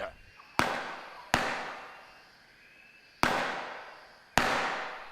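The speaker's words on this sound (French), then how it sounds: "C'était des coups de feu, Tandor." Four sharp, loud gunshot cracks ring out at irregular intervals, each decaying into a long echoing tail in a jungle setting, with no talk between them.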